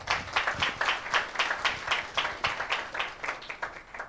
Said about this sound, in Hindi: क्या ताली बजा सकते हैं आप?